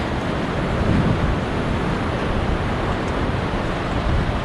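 A steady roar of surf rolls in from the ocean at Myrtle Beach in summer. It is a broad, continuous wash with light wind rumble over the microphone and no voices.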